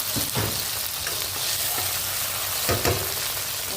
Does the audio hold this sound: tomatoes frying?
yes